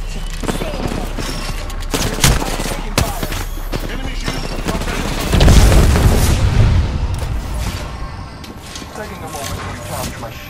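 Bursts of gunfire from the Apex Legends battle-royale video game crackle in rapid succession, with a heavy boom around the middle and a dense stretch of shots, backed by steady game ambience and a voice.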